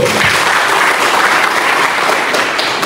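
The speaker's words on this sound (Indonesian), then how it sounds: "Ya, tepuk tangan dulu" Audience at a scout camp opening ceremony at a vocational school bursts into steady, dense applause, loud and continuous with no talking.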